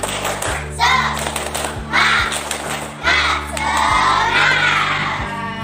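A school class performs a 'tepuk semangat' spirit clap chant, children shouting rhythmic bursts in unison with patterned claps, loud and close, in several waves with brief pauses between.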